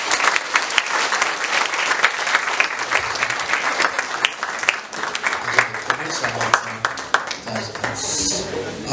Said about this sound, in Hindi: हमें जोश में ताली बजाएंगे